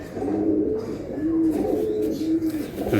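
Giribaj pigeons coo in low, throaty bursts, a pair close by repeating soft rolling calls several times in a steady rhythm with faint background noise.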